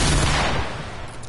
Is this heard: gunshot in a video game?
yes